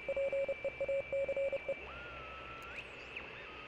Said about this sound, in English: Oh, I hear Morse code.